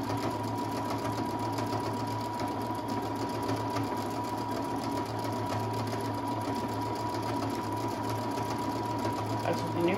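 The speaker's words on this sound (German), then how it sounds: "Also die Nähmaschine ist da." A Brother Innov-is 200 sewing machine stitching steadily, a continuous close mechanical whir and rapid needle chatter that holds an even rhythm without pause throughout.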